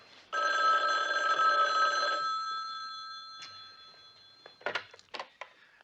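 A telephone bell rings loudly for about two seconds in a steady trill, then fades out, followed by a few faint knocks and handling sounds.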